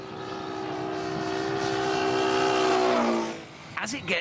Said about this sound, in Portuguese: Quando o aviãozinho se aproxima e depois se afasta, o barulho que ouvimos muda.